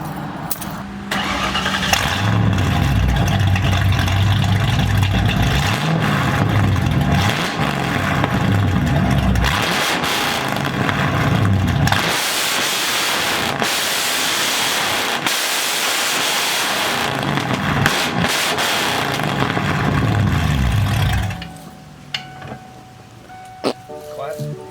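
A Ford 5.0 V8 breathing through a DNA Motoring cat-back exhaust revs hard and loud for about twenty seconds with rising and falling throttle blips, then settles to a quieter idle.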